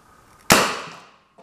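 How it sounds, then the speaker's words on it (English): A homemade 330-volt shooting taser fires once with a sharp, close crack that decays over about half a second, followed by a faint small knock and no voices. "First test of the shooting taser."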